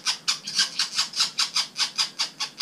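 Northern flickers, woodpeckers, give a rapid series of about a dozen loud, evenly spaced calls close by, each call short and bright, with no talk over them.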